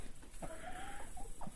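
Chickens and Denizli roosters clucking on a poultry farm, a few faint, short calls rising over quiet background noise.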